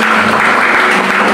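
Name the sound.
church congregation applause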